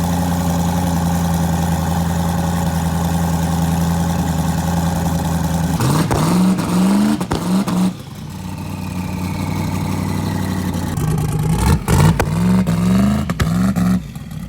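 A twin-turbo LSX V8 drag car engine idles loudly up close with a rough, lumpy rumble, broken by several sharp blips of revving that rise and fall before settling back to idle.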